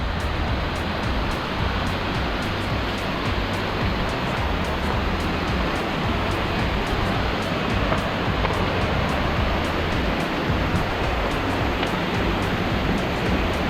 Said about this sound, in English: So we arrived to the first waterfall.